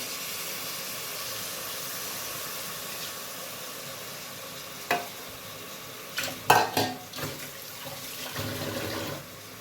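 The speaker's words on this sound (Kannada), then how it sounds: "ನಾನು ಈಗ ಕಟ್ ಮಾಡಿ ತೊಳೆದು ಇಟ್ಕೊಂಡಿರೋ ಸಬಸ್ಗೆ ಸೊಪ್ಪು ಹಾಕತ್ತ ನೋಡಿರಿ" Chopped, washed dill leaves go into a hot pan for a rice pilaf and fry with a soft steady hiss, then a few louder stirring scrapes and sizzling bursts toward the end, with no talking.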